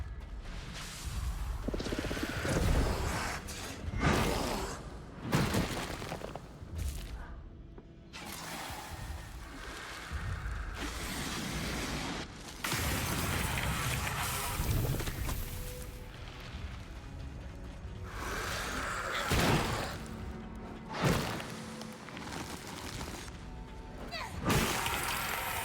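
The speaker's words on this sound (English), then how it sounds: "The freezing and shattering is something I will always love." Enemies freeze and then burst apart in the video game Eternal Strands, with repeated crackling shatters and booms layered over dense, continuous combat effects and music at a steady loud level.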